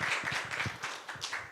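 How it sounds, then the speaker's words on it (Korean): A small audience at a data-center training event claps in a short, uneven burst of individual hand claps, close and fairly quiet, with no talking over it. "박수로 좀 맞으시죠"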